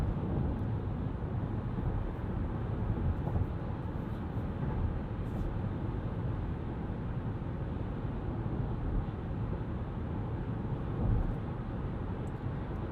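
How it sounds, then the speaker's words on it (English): Steady broadband wind and road roar fills the cabin of a 2020 Chevrolet Bolt EV Premier electric car cruising at 70 mph, with no engine note, constant and unchanging throughout. "let you hear what the car sounds like at 70 miles per hour"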